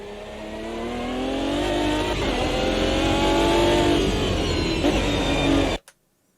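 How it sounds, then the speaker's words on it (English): Race car engine in the Automobilista 2 racing game growls and revs up steadily, a loud, close, rising drone that climbs in pitch over several seconds before cutting off abruptly into silence. "Really listen to the growl of the engine."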